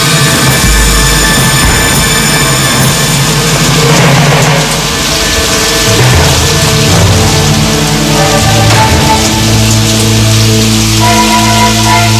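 Heavy rain falls in a steady, dense wash across the whole stretch, with music running beneath it and no voices.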